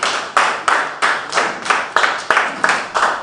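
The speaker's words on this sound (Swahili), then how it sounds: "Pigie makofi." A church congregation claps in a steady, even rhythm at a youth overnight worship service, about three claps a second. The claps are loud and close, with no voices over them.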